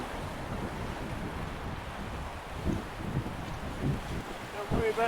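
Waves washing onto a beach beside a jetty, with a continuous rumbling surf and wind buffeting the microphone, and a few louder swells toward the end.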